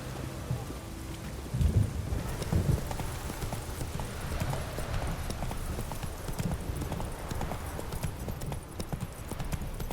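Roach the horse trots in The Witcher 3, with rhythmic clip-clop hoofbeats running steadily throughout over a soft outdoor ambience of wind.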